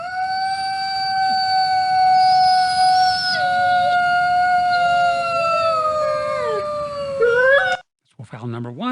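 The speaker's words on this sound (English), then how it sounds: "Wolf howl number one." A long wolf howl, a steady sustained tone holding for several seconds and then sliding down and breaking off, clear and fairly loud with faint overlapping howls behind it.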